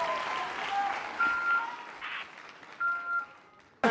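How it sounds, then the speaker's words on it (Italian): Studio audience applause on a television variety show, fairly faint and fading over a few seconds, with a few voices and scattered tones mixed in before an abrupt cut. "Ancora un applauso"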